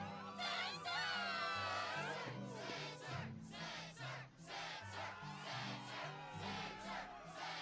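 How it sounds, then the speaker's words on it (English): A crowd cheers and shouts at a Struggle tournament in the video game Kingdom Hearts 2, a steady, fairly loud wash of excited voices and yells that keeps going from start to finish. "the crowd is fired up"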